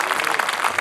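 Brief burst of crowd applause at an outdoor Chilean heritage-day gathering about Chilean horses, a dense steady patter of clapping.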